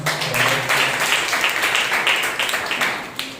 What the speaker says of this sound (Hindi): अमन के लिए जोरदार तालियां।